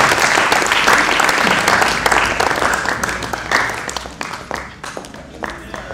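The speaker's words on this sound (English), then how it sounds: "A clap for Malaika." Audience applause at a peace and security gathering, a loud burst of clapping from the crowd that starts full and gradually tapers off over several seconds.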